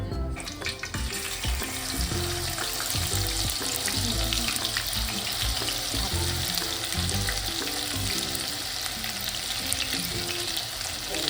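Garlic, ginger and curry leaves fry in plenty of oil for an Agri Koli prawn biryani, giving a loud, steady crackling sizzle with stirring that runs throughout, no talk.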